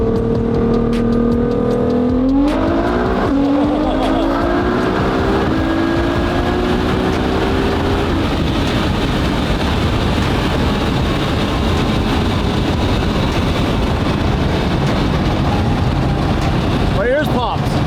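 A car launches hard on 20-inch street tires, its engine climbing loudly through the revs before settling into a roaring, noisy pull, with a sharp sound near the end.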